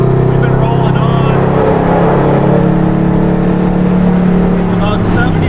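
Shelby Code Red prototype street car running hard at around 80 mph, its boosted engine droning loud and steady with a sustained roar and tire noise throughout, voices talking over it.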